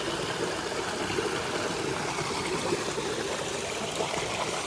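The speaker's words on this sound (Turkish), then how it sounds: "Değirmeniyseniz değirmenin suyu da hemen buradan geliyor." A stream feeding a mill flows steadily, a continuous close rush and trickle of water with no pauses or voices.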